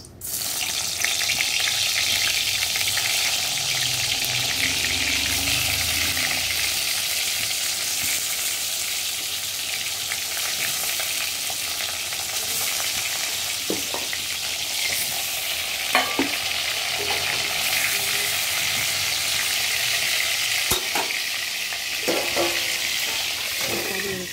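Fried pointed gourd goes into hot oil in a pan and sizzles steadily and loudly, with occasional scraping stirs over the continuous frying hiss.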